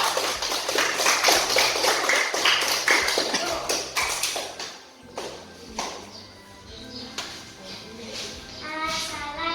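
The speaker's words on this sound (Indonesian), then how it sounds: "Tepuk tangan dulu buat kelompok Atika" A classroom group applauds a student group with quick, irregular hand claps that fade out partway through, followed by scattered taps and children's voices.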